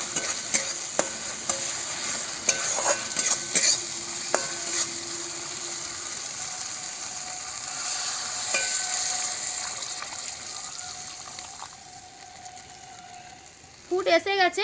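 A pot of tangy fish curry gravy heats over the fire, a soft steady hiss and simmer with occasional clinks of a utensil against the pot, ending in a louder bubbling burst.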